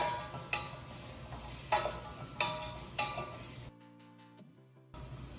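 Onions, garlic and diced carrots sauté in a pan on the stove, a low steady sizzle with a few sharp utensil scrapes and stirs, briefly cut out near the end.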